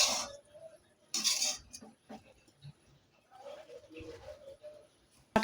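Fried jute greens being served from a pan onto a plate, with a few close, light metallic scrapes and clinks of a utensil against cookware, separated by short quiet gaps.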